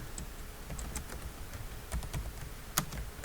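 Clicky keystrokes on a computer keyboard, a steady run of close, fairly quiet key presses with one sharper tap near the end, no speech.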